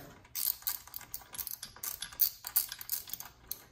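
A hand ratchet tightens the bolts of an engine torque mount on a 2018–2022 Honda Accord, producing brisk bursts of metallic clicking in quick strokes, close and clear, with no talking.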